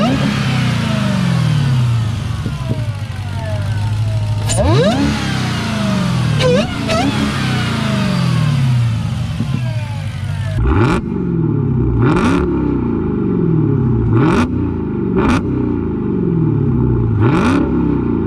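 Supercharged 6.2-liter Hemi V8 in a Dodge Charger Hellcat, loud and close, repeatedly blipped in sharp revs that rise and fall over a steady rumbling idle, with a burst of quick throttle stabs toward the end.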